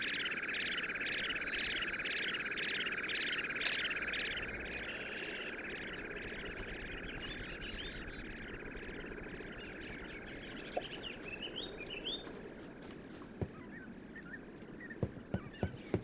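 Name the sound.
recreated bird calls in a video game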